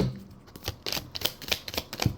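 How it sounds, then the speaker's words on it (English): Tarot cards being shuffled by hand, a quick run of crisp papery flicks and riffles in uneven bursts, close and fairly quiet with no talking. "Oh, let me do a little bit more shuffle."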